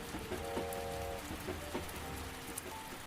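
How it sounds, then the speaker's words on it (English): Soft, steady rain falls outside a train carriage as an even, gentle patter with scattered drops. A faint tonal hum sits underneath throughout. "The rain is falling softly outside."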